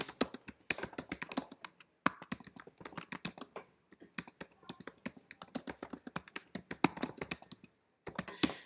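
Someone types a search query on a computer keyboard in rapid, uneven bursts of close, crisp key clacks with brief pauses between words, and no talking.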